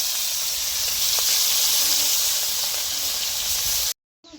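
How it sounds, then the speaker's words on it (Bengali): Pha fish frying crisp in hot oil, a steady, loud, dense hiss and crackle that runs unbroken before cutting out abruptly near the end. "একেবারে মুচমুচা ভাজা করে ফেলছি।"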